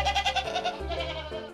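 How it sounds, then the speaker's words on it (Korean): Goats in their pen on a remote mountain farm in Jinan bleat in quick, wavering, nasal calls, several pulses in succession at close range with no talk. "길수 씨가 찾은 곳은 주인 보기를 돌보듯 한다는 염소 부부의 우리"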